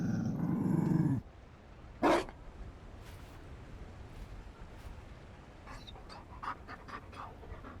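A Mabari war dog in Dragon Age: Inquisition pants heavily and gives a short growl, followed by a quieter stretch with scattered small yips and rustles, close by and alone without speech.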